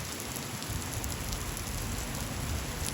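Heavy rain drumming steadily on a car sunroof at night, a dense continuous patter with occasional louder drops, heard from inside the vehicle.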